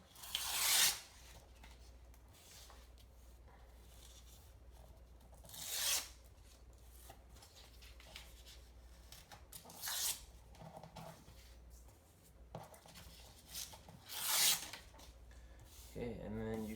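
Paper being torn by hand for a collage, with four short rasping rips spaced several seconds apart, close and fairly crisp, and quieter rustling between them.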